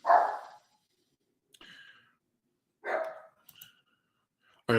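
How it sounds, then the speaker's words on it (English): Several dogs bark indoors in short irregular bursts, one loud bark followed by quieter yips and another full bark, with gaps of silence between. "I got to tell the dogs to shut up"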